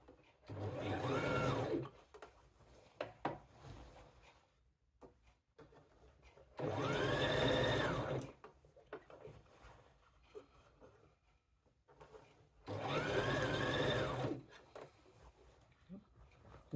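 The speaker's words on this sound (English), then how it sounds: "on the brother dial of the LS14 beginner sewing machine" A Brother LS14 beginner sewing machine whirs in three steady bursts of a couple of seconds each, separated by quiet pauses with soft handling noises.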